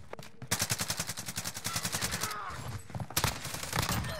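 Automatic gunfire from a PP-19 Bizon submachine gun in a Search and Destroy match, two loud rapid bursts separated by a short pause, with faint game chatter between them.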